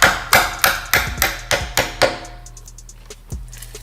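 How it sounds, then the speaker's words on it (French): A hammer drives a greased bushing into the rear subframe of a BMW E46 drift car with about seven evenly spaced sharp metallic blows, then a pause and one final strike. "on a rentré au marteau avec un peu de graisse"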